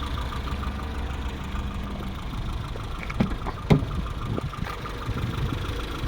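A 1983 Triumph Acclaim HL engine idles steadily at close range, a smooth low hum with a few light clicks and knocks partway through, no voices present.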